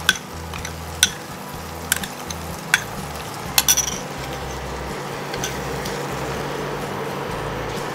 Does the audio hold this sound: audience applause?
no